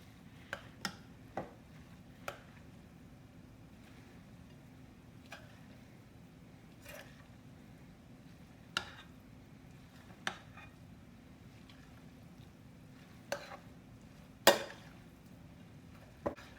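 Ground turkey mixture being stirred, sparse light clicks and taps of a utensil against the pan spaced several seconds apart over a low steady hum, faint and unhurried.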